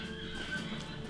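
A horse neighs in a short whinny against a steady background murmur.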